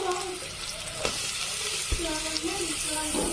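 Chopped onions frying in oil in a pan for chicken curry, a continuous close sizzle with occasional spatula knocks and stirring scrapes, no voices over it.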